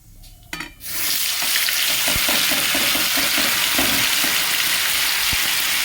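Poppy seed spice paste mixed with water frying and being stirred in mustard oil with nigella seeds, ginger, garlic, onion and green chilli paste, a loud steady sizzle with scraping stirs throughout after a short quiet start.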